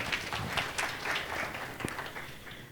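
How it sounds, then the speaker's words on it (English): Faint audience applause after a panel session on inclusive technology: scattered, uneven clapping from a crowd heard at a distance for a few seconds. "Another round of applause, everyone."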